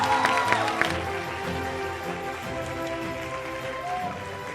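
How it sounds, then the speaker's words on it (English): Audience applause at a high achiever awards ceremony, a steady wash of clapping from a crowd that holds at an even level throughout, with some brighter claps near the start. "Another round of applause to soothe his anxiety."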